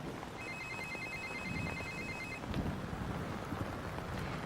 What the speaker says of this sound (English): It's gonna ring in a few seconds.